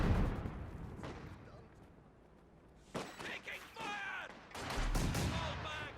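Mortar and artillery blasts from a Company of Heroes 2 battle, several sharp booming impacts and crackling bursts in irregular clusters, mixed with game effects and a voice talking over them.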